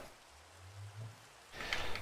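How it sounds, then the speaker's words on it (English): Rain in a Minecraft 1.19.2 survival game, faint at first over a low droning tone, then swelling into a louder hiss about halfway through. "Oh, it's raining. Of course it's raining."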